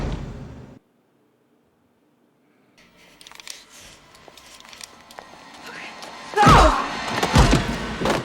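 A dull kick thud from the 1996 horror film Scream lands after a stretch of silence, followed by loud scuffling impacts mixed with film dialogue.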